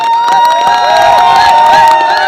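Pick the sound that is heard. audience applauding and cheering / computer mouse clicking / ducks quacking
audience applauding and cheering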